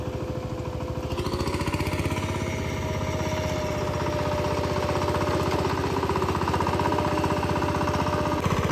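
A tractor engine chugs steadily and loudly up close while puddling a wet rice field for transplanting, a continuous rapid rumbling throb that builds slightly over the whole stretch.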